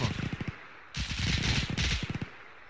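Machine gun fire in a World War II-style video game: several rapid bursts of close, sharp shots, with a pause and then louder sustained bursts with clattering echoes, no talking.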